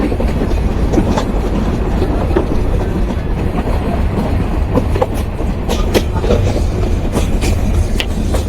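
The Rupsha Express train in Bangladesh rolls along the rails with a loud, continuous rumble and rhythmic clattering of wheels, heard close up throughout.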